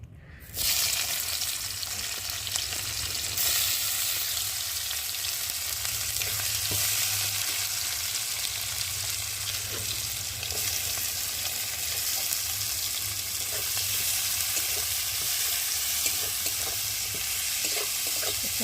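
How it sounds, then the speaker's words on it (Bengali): Onions fry in hot oil in a pan with a steady, fairly loud sizzle and hiss throughout, broken by occasional faint stirring ticks and scrapes, with no one talking. "তেলটা গরম হয়ে গেছে। আর এখন আমি পেঁয়াজ দিয়ে ভালো করে ভেজে নেব।"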